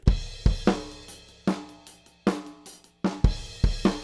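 A drum kit plays a steady groove of punchy kick and snare hits with light cymbal wash, heard close and somewhat roomy through a ribbon microphone over the kick.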